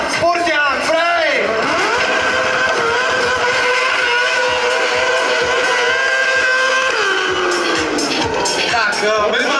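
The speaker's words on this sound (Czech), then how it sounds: "přijíždí nejúzvanější motorka" A stunt motorcycle arrives at a Czech stunt-riding semi-final, its engine revving loud and steady with rising and falling pitch, while an announcer talks over it amid crowd noise.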